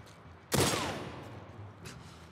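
A single loud gunshot in The Last of Us Part 2 Remastered, a sharp close crack at about half a second followed by a long reverberating decay, with a fainter distant shot near the end.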